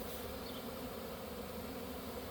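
Swarm of honey bees that have just left their hive, a dense steady buzz of many wings filling the air continuously and fairly loud, with no voices.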